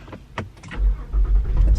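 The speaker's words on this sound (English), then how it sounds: "starting my car for some apartment hunting" A car being started for a drive, a few clicks and rustles, then the engine cranking and catching into a low rumbling idle, close and fairly loud.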